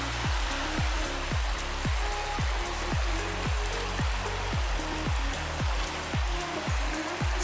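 River water flows steadily and close by, a continuous rushing wash filling the whole clip, with no talk over it.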